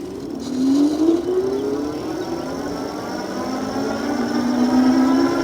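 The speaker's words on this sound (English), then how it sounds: "You do hear the motor initially, but then it levels off" An Eahora X9 electric bike motor pulls uphill on throttle alone, its whine rising steadily in pitch as it accelerates, loud and close over rushing wind.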